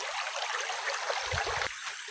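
A river flowing past under open sky, its steady broadband wash faint and continuous with a brief low rumble near the end, no voices.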